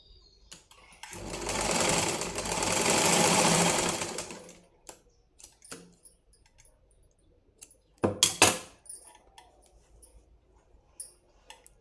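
A sewing machine stitches a lining blouse in a steady burst of about three seconds, then stops, followed by scattered handling clicks and a brief second run near the end.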